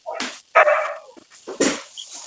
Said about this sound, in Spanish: dejen callar a mi perro